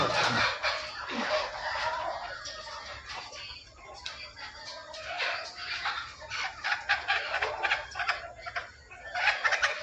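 Desi country chickens cluck and crow close by in a continuous, busy flock, with frequent sharp calls layered over one another throughout.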